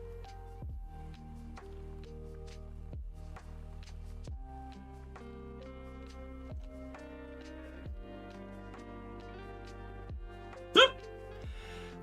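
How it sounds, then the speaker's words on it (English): A single sharp, brief hiccup bursts out near the end over soft, steady lo-fi piano music that plays throughout. "Oh, why do you got hiccup?"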